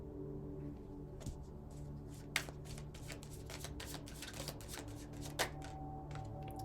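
Aquarian Tarot cards are shuffled close up, with soft riffling flutters and occasional sharper snaps of the deck over a low room hum.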